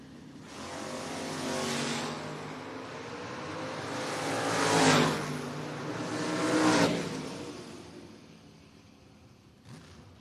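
Door-car drag racers launch and run down the track at a drag racing event, with engine roar swelling as cars pass, peaking twice, then fading, and no voices over it.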